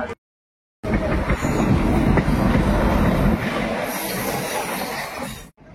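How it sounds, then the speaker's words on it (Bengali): A Howrah–Digha local train rolls into Digha station, a loud rumbling rattle of wheels on rails after a brief silence, with a high squeal near the end. "আমাদের ট্রেন কিন্তু ঢুকছে দীঘা স্টেশনে"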